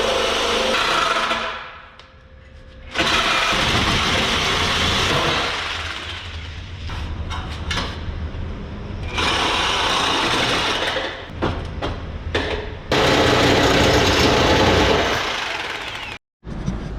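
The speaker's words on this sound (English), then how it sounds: "I'm gonna grab a chop saw real quick. We're gonna cut this one, and then we're gonna cut this one" A chop saw cuts through the exhaust pipe of an Audi A7, loud and close, in long grinding bursts broken by short pauses and a brief drop near the end.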